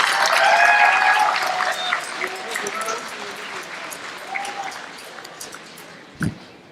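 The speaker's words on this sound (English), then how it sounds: "A huge round of applause for each of the graduating class of 2018." Audience applause for a university graduating class of 2018 fills the hall, loud at first and gradually fading, with an announcer's voice over it and a sharp thump near the end.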